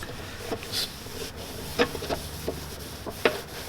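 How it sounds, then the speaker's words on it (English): A microfiber cloth buffs aluminum polish off a Mercedes part: soft, close rubbing strokes with a few light knocks and scrapes scattered through, no talking. "Let's try buffing this off and kind of just see what the finish looks like."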